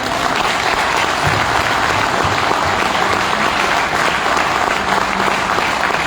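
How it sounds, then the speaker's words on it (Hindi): Sustained applause from a seminar audience in Goa honouring the resource persons who gave sessions, a dense, steady wash of many hands clapping at full volume throughout, with no voices rising above it. "क्या उनके लिए तालियां हो सकती हैं?"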